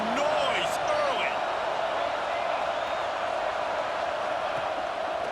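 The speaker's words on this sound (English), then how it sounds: "This crowd bringing the energy and noise early." Stadium crowd in the football video game EA Sports College Football 26, a steady loud roar of many voices filling the whole span with no break, with a brief higher shout near the start.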